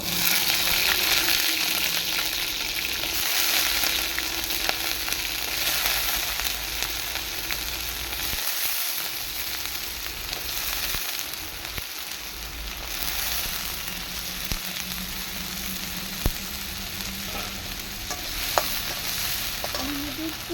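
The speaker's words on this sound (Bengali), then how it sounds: "অল্প তেল দেবো, মানে একবার পরিমাণ মতন, অল্প বলতে পরিমাণ মতন, অল্প পরিমাণ মতন। আলুটা একটু ভেজে নিব।" Potatoes frying in a little oil over a clay stove, a continuous close sizzle with frequent stirring scrapes and occasional clinks, steady throughout and free of talk.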